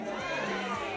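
A dense crowd of supporters at a political rally roars and cheers continuously, a loud, steady wash of shouting voices with no breaks.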